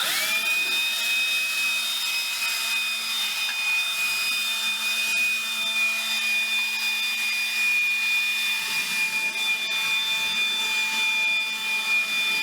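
DeWALT cordless handheld axial leaf blower used on snow, a steady high-pitched whining whoosh of its fan held at constant speed for the whole stretch, loud and close with no talking.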